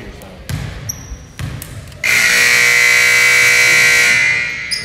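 A loud basketball game buzzer blares for about two and a half seconds in an indoor gym, following bouncing ball and shoe noises, with people talking and shouting around it.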